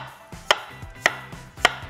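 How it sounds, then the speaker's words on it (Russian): A knife cuts potatoes into thin slices on a board for a potato-based pizza, three crisp, evenly spaced chops ringing out close and clear with no talk. "картошку нарезаем тоненькими слайсиками"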